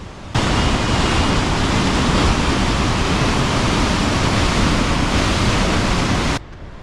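Water pours down from a height at Yamunotri onto a Shiva linga below, a steady broadband roar of falling water, loud and constant, with no voices over it.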